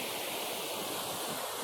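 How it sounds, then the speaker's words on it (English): Ocean waves at a beach, a continuous broad wash of surf that stays steady and fairly loud for the whole short stretch, with no talk over it. "there's the ocean"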